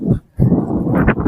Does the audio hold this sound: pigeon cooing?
no